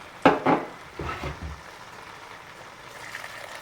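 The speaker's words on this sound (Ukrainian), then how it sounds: "І додаємо водичку" Water poured into a pot of vegetables and millet for cabbage soup, a couple of sharp splashing bursts followed by softer gurgling and a settling simmer that fades to a quiet hiss, close by.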